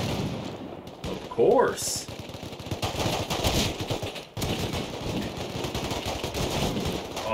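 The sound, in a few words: shotgun gunfire in video game Rust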